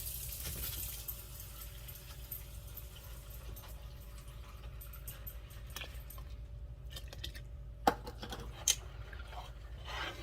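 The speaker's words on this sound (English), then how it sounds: "Now I'm going to add 2 cups of water." Water pours into a pot of sugar for pineapple orange jam, making a soft, steady, faint splash under a low background hum, with a couple of brief clinks near the end.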